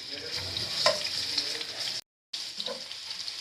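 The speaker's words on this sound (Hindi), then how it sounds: "गार्लिक को हम गोल्डन सा ब्राउन कर लेंगे।" Crushed fresh garlic frying in a few spoons of cooking oil, a steady close sizzle with a brief gap of silence midway before it resumes.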